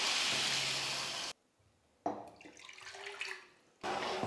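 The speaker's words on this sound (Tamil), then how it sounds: "2 கப் அளவுக்கு தண்ணி சேர்த்துக்கிறேன்." Water poured from a cup into a pan of sugar to make syrup for gulab jamun, a steady rushing splash that cuts off abruptly, then resumes briefly with softer trickling before the loud pour returns.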